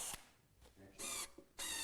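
A hand drill bores holes into a wooden cabinet top, giving two short, loud, broadband whirring bursts with a quiet pause and a few small clicks between them.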